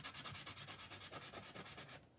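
Coarse-grit sandpaper is rubbed by hand in quick, regular back-and-forth strokes, about nine close raspy scrapes, ending in a small knock, with no voices.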